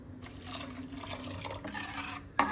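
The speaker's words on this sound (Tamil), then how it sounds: "நான் தண்ணி ஊற்றி போகிறேன்" Water trickles and drips as it is poured into ground Mudavattukal kilangu tuber paste for soup, a soft, close liquid splashing that runs steadily for a couple of seconds before a sharper clink near the end.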